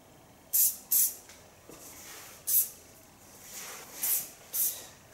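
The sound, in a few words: hairspray being sprayed onto hair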